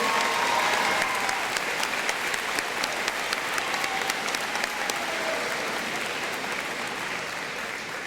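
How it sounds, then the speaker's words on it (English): A high school senior convocation audience applauds new National Honor Society officers, sustained clapping with sharp individual claps standing out, slowly tapering toward the end. "let's give them a round of applause for our new officers"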